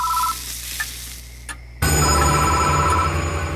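A phone booth telephone in the horror video game Death Mark gives a short ring, then a sudden shift into a louder, dense mechanical wash with a sustained tone, with no voices.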